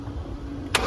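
A 2019 BMW X5 (G05) diesel engine cranking with a steady mid-pitched churn that ends in a sudden sharp hiss-like burst, close and fairly loud, with no voices.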